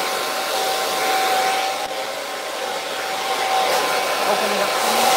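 A hair dryer blows steadily and loudly at close range to clear cut hair from a tapered cut on gray natural hair, its airflow a constant whoosh with a thin whine running through it.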